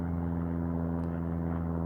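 A propeller airplane drones overhead at night, a steady loud low engine hum with strong tonal throb, constant throughout with no other sounds.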